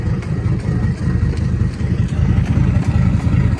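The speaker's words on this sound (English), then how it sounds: "Listen to them engines." Boat engines run at sea off Wells-next-the-Sea in Norfolk on a windy day, giving a steady, low, rhythmic chugging throb that holds at an even level throughout.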